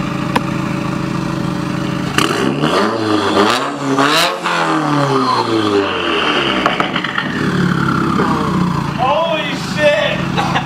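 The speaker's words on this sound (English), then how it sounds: "The turbo is so loud." A 2015+ Subaru WRX turbo engine with a catless downpipe, heard loud and close as it revs up and down in strong sweeping pulls, with an excited voice exclaiming over it.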